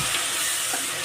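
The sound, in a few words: frying cauliflower gravy spices in pan being stirred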